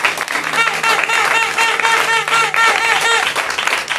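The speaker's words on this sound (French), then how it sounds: "Acclamons fort pour cette sœur." Congregation at a Christmas vigil breaks into steady, loud clapping and cheering that carries on for the whole stretch, with a few voices calling out amid the applause.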